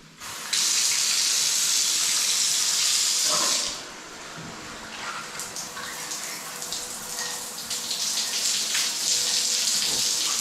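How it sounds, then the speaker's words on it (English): Bathroom shower in a Vietnamese hotel in Yen Bai turned on to test water pressure, a loud close steady spray hissing for several seconds, then dropping to a softer, uneven splashing flow. "Let's check out the water pressure on here."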